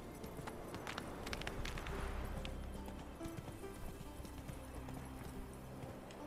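Horse hooves from The Witcher 3 game drum out a steady, fast clip-clop gallop that stays loud and close the whole way, with no talking over it.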